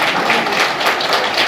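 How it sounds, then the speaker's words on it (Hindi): Audience applause at a community welcome and honours ceremony, a dense continuous wash of many hands clapping at steady loudness. "उन सब के नाम पर एक बार जोरदार तालियां बजाएंगे आप।"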